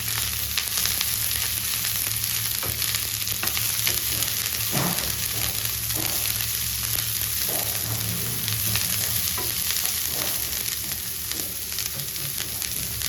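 Sliced onion and crushed garlic fry together in a pan, giving a loud continuous sizzle with occasional soft stirring knocks, close and steady, with no talk over it.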